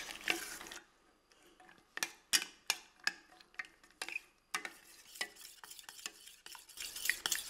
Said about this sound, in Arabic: اذا نبقى نخلط فوق النار حتى تذوب لنا هذيك الشوكولا.